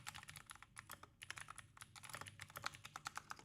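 Steady, rapid typing on a computer keyboard, with quick uneven clusters of key clicks running throughout, close and clear with no talking.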